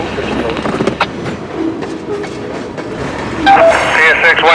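A CSX freight train rolls along the main track at 46th Street in Miami's industrial area, a close, continuous rumble and clatter of rail cars, with a squeal rising near the end and a radio voice talking over it.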